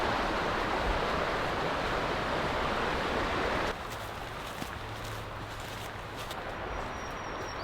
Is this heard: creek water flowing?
yes